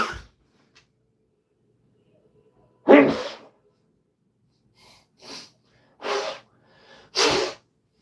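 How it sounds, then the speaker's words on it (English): A single sharp sneeze bursts out of near silence, followed by a few shorter sniffs and breathy snorts. "I'm sorry, I had to sneeze there."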